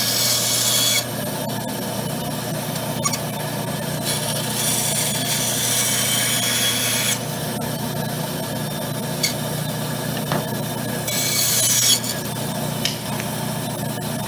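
An old Craftsman band saw cuts steadily and loudly, its continuous whirring rasp holding through the whole stretch with slight shifts in intensity as the blade works.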